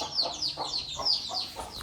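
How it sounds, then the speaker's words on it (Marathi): Chicken chicks cheep in quick, high repeated peeps, about five or six close calls in under two seconds, fairly clear with faint background. "इकडं कोंबडीची पिल्ली बघ अशी."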